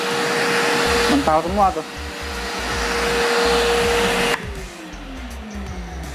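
A MULTIPRO 3in1 dry, wet and blow vacuum cleaner runs in blow mode, a steady loud rushing whine of air with a motor tone that drops as it changes speed. A person talks briefly over it.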